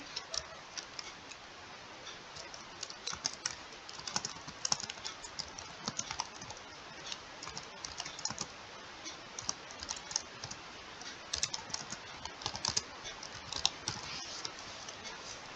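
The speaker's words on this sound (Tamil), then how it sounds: "இப்போ நம்ம டைட்டில் டைப் பண்ணியாச்சு." Rapid, continuous clicking of keys on a computer keyboard as a video title is typed, close and steady with irregular taps and occasional louder strokes, no talking.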